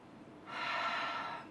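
A single soft, steady breath out during a breathing exercise, airy and close, lasting about a second after a quiet start.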